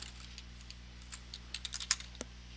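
Keys tapped on a computer keyboard while code is entered for a video game, a sparse run of light clicks that cluster into a quicker burst near the end over a steady low hum.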